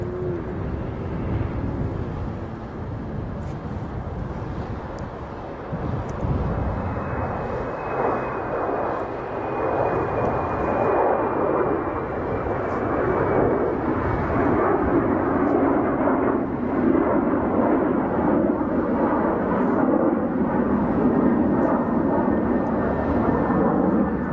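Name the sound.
Scandinavian Airbus A350-900 jet engines at Chicago O'Hare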